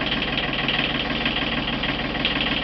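The diesel engine of a Beneteau First 32 sailboat idles in neutral with a steady, even low chugging throb, close and continuous with no talk.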